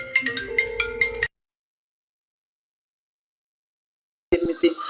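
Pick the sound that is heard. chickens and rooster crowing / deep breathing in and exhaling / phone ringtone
phone ringtone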